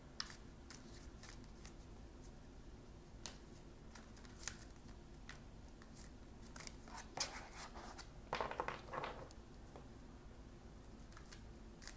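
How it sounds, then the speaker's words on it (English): Soft, irregular shuffling of oracle cards with brief riffling bursts and taps, close by, over a faint steady background hum. "Okay, we're going to go ahead and do a shuffle."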